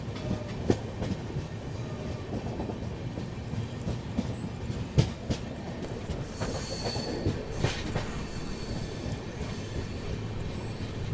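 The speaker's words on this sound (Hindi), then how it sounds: "चलिए फाइनली गोंदिया रेलवे स्टेशन में अपनी एंट्री हो रही है।" Azad Hind Express rolling into Gondia Junction railway station in India, a steady rumble of carriages with rhythmic clicks of wheels over rail joints and faint wheel squeal, heard from inside the train with no talking.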